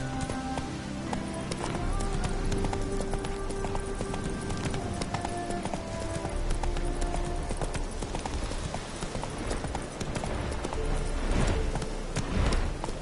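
Horse galloping in The Witcher 3 video game, a fast continuous clip-clop of hooves that is close and loud throughout, with some speech mixed in.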